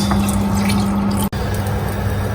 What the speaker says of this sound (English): Use the pan to add water.